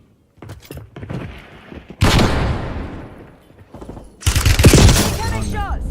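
Gunfire in Call of Duty Warzone on Verdansk, loud sharp bursts of shots with heavy echoing tails, starting sparse then erupting in two intense volleys, close by, with speech mixed in.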